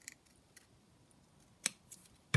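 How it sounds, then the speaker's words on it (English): Scissors snip through a paper leaf on a junk journal page, a few quiet separate cuts spread over a couple of seconds and ending in one louder, closer snip. "what I'm going to do is chop this leaf off"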